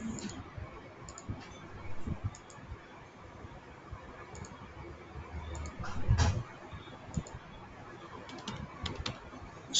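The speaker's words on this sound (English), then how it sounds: "now I'm typing create sp file from p file" Typing on a computer keyboard during an Oracle 19c database command session: quiet, irregular clicks and taps close by, spread across the whole stretch, with a few louder keystrokes and no talking.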